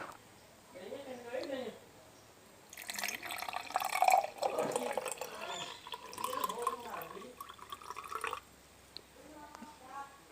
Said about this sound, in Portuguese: Vou estar adicionando água até a metade do copo.